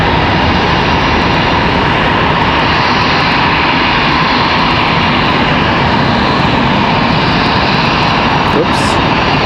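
Boeing 767 jet departing Charlotte Douglas airport, a loud continuous engine roar that holds steady for several seconds.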